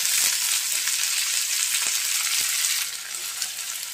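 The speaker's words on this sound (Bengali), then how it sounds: "শুকনো মরিচ দিয়ে পেঁয়াজ রসুন দিয়ে ভাজি করলেই ভালো লাগবে" Red amaranth greens frying in a pan with dried chilli, onion and garlic, giving a steady close sizzle with a few soft stirring clicks, easing slightly toward the end.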